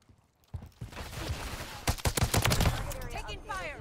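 Gunfire in Modern Warfare 3, starting after a quiet moment with scattered shots building into loud overlapping bursts, followed by a voice speaking over the fading noise.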